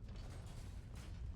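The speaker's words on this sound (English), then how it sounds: "Doors open." A door grinds open in Skyrim with a low mechanical creak and rumble, a steady, moderately loud churn lasting the whole moment with no voices over it.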